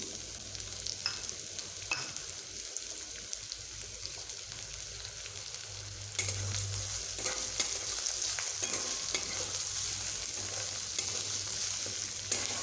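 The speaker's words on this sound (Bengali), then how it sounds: "পেঁয়াজগুলোকে আমি একটু হালকা ব্রাউন করে ভেজে নেব" Onions fry in oil and are stirred toward light brown, a soft, steady sizzle with scraping strokes that grows louder and denser halfway through, heard up close with no voices.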